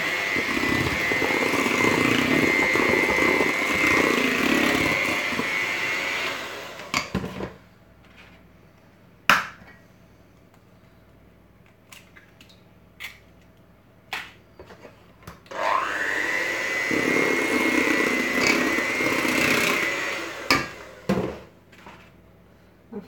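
Electric mixer beating chocolate cake batter with free range eggs, a loud steady whirring drone that runs, stops for a stretch of quieter clinks and knocks, then starts up again for several seconds.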